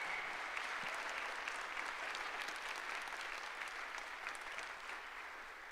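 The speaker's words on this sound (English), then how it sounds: "can we get a round of applause for Jake?" Steady applause from a college convocation audience honoring a speaker from a lion dance club, an even wash of many hands clapping at moderate distance that tapers slightly toward the end.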